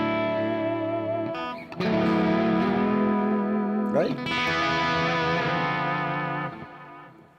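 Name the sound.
electric guitar through overdrive and delay pedals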